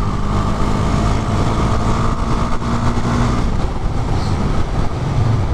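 A Husqvarna 401 Svartpilen motorcycle engine pulling on low-end torque, a loud continuous droning rumble with road and wind noise, steady throughout with no talking.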